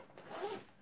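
A zipper runs once along the small key pocket of a youth backpack with a star pattern, a brief, quiet, close rasp that sounds alone.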